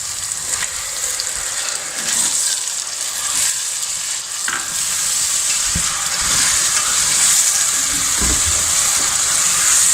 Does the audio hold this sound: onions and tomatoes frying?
yes